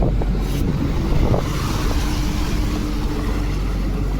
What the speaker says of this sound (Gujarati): બોટ હાલે